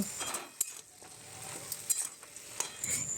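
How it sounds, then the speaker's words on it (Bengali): Soaked moong dal frying in a pan while being stirred, a soft sizzle broken by sharp clinks and scrapes of a utensil against the pan, no voices. "এরপর 2-3 মিনিট ভালো করে নাড়াচাড়া করে নেব"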